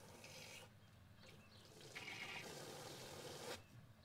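Water rushes through pipes after being turned on at an old château, a faint steady hissing flow with gurgling surges, heard alone at low level.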